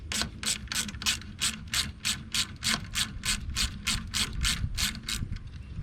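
Ratchet loosening a fuel injector line fitting, a close, steady run of about fifteen evenly spaced clicking strokes.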